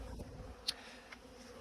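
Honey bees hum at a beehive in a low, steady buzz that fills the whole moment, with one brief faint click partway through and no talk.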